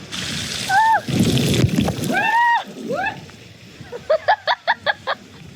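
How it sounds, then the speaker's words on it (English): Water splashing and sloshing close by at a water park, with a couple of bird-like squeals and a rapid series of short sharp clicks or chirps near the end. "Are you splashing? Splish splash."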